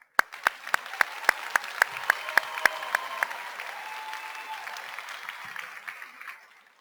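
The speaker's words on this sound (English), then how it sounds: "A round of applause and congratulations to all." An audience applauds at a 2019 preparatory school graduation ceremony, steady clapping that builds and holds, overlaid by a series of sharp, regularly spaced loud claps near the microphone that fade out over the second half.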